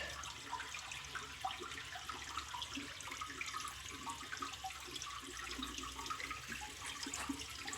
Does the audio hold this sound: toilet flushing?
yes